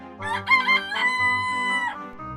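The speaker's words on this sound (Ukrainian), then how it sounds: "Півень встав у курнику, закричав." A rooster crows once in a puppet show, loud and close, a long strained call rising and holding before trailing off.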